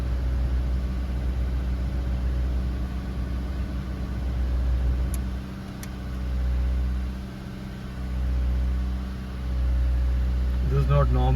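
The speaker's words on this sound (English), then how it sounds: "it goes all the way to 2000 RPM and it stays there at idle" A 7th gen Toyota Celica engine idles high at around 2000 RPM with a steady, loud mid-pitched hum and drone, slightly pulsing, with talk over it.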